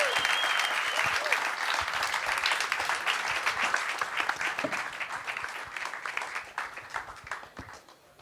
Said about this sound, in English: give a very warm and big applause to Aqua Monitor